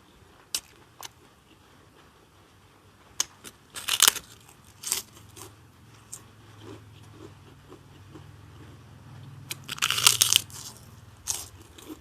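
Crispy shrimp crackers crunched and bitten up close, sharp dry crackling bursts scattered between quieter chewing, with no talk.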